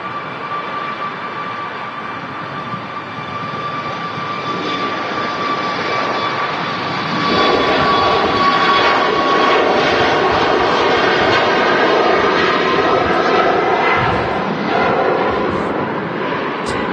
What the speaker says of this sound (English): that's followed closely behind by the Helvetic Embraer E195 E2